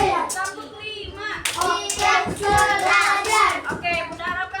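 A group of young children clap hands together in a classroom counting game, with loud repeated claps and some chanting voices mixed in.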